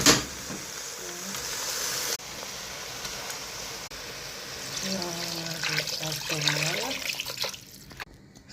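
Water pours and trickles into a cooking pot for chicken stew, a hissing, splashing stream with a rising gurgle as the pot fills, steady and close with a sharp clatter at the start.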